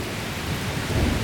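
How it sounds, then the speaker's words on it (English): Thunder rolls through a rain-soaked thunderstorm, a deep, continuous rumble over the steady hiss of rain that swells louder toward the end. "So the lightnings and the thunder."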